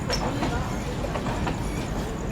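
Howrah–Pune Duronto Express passing, a continuous rumble of coaches with faint rhythmic wheel clatter, heard nearby as a steady wash of rail noise with speech faintly present.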